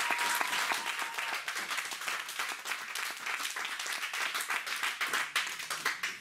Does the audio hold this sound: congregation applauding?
yes